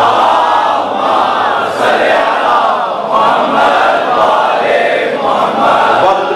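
A large crowd at an imam bargah majlis in Lahore recites salawat together, a loud, dense wall of many voices chanting in unison without pause, close and continuous.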